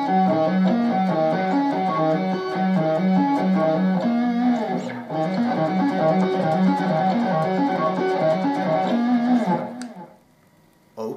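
Guitar hybrid arpeggio lick played slowly, a dense steady stream of picked and plucked notes with a distorted tone, loud and continuous before cutting off near the end.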